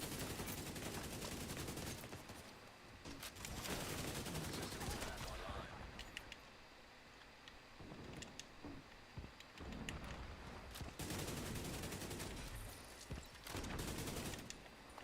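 Gunfire in a video game during a PTS test session, with repeated bursts and volleys of shots spread through the clip alongside game noise, fairly loud throughout.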